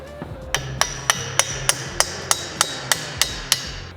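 Hammer blows drive a bushing part into a BMX bicycle frame during assembly, about twelve sharp, evenly spaced metallic strikes, close and distinct over a quiet background.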